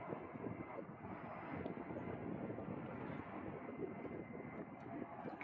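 A-10 Thunderbolt II jet flying in to land during an air show demo, a broad, steady roar of its engines heard from a distance, filling the clip without a break.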